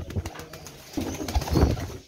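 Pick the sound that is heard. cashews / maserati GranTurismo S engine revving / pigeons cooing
pigeons cooing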